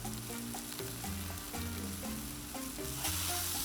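Kung Pao chicken stir-fries on a 22-inch Blackstone griddle, a constant loud sizzle with the spatula stirring through it, dense and uninterrupted with a steady hum underneath.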